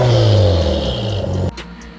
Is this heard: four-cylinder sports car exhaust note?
yes